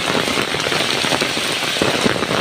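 Heavy rain pours down in Bogura district, Bangladesh, a dense, steady crackling hiss of countless drops striking surfaces, loud and unbroken throughout with no voices.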